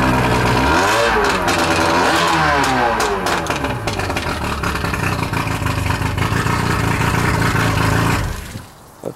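A small engine revs up loudly several times, rising and falling in pitch close by, then settles into a rough idle before cutting off near the end.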